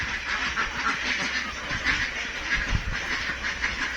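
Three-year-old laying ducks on a farm quack in a busy, continuous chorus. The flock sounds moderately near, with a steady hiss in the background.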